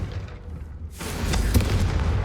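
A Confringo fire spell from the Hogwarts Legacy video game bursts into a loud, heavy explosive boom that swells and rumbles on, preceded by a quieter low background, with no speech.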